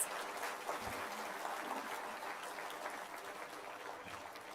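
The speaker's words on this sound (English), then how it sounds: "please join me in the warm round of applause for all our distinguished guests." Conference audience applauding honored guests at a national tribunal gathering, sustained clapping from a large hall crowd, steady and moderately loud throughout with no speech over it.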